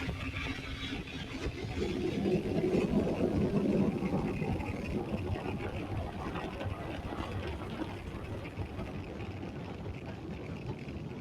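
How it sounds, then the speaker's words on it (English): A SpaceX Falcon 9 rocket lifting off from Space Launch Complex 40 at Cape Canaveral, Florida, on the USSF-124 mission: a continuous broad rumbling roar that swells early and then holds steady, with faint voices behind it. "Successful liftoff from Space Launch Complex 40 in Cape Canaveral, Florida."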